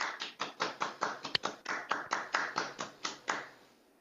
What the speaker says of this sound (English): if you want to unmute and give Ron some applause